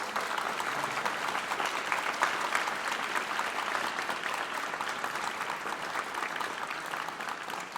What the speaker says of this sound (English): give their parents a round of applause for supporting them with lessons and instruments